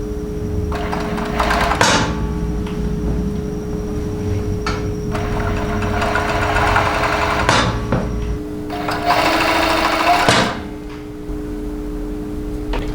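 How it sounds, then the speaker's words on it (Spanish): An overlock sewing machine stitches a sleeve onto a cotton T-shirt in close bursts: a short run, then longer steady whirring runs with brief pauses between them, over a constant electrical hum. "tenemos aquí nuestra manga del otro costado y la vamos a coser así"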